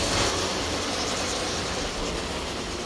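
An O gauge NS model train running on a layout with a 3D printed viaduct bridge, a continuous broadband rumble and rolling hiss, steady and fairly loud, with no talking.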